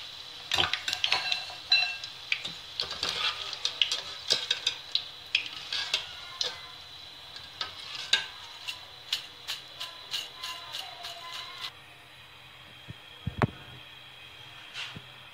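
Fritters bubbling and crackling in hot oil, with busy sizzling punctuated by frequent sharp ticks and scrapes of a utensil stirring in the pan, then a quieter stretch near the end with one low thump.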